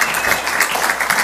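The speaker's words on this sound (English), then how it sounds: "go ahead and give us a round of applause right there" Audience gives a short round of applause at a reentry program talk, a brief, moderately loud patter of clapping hands filling the moment.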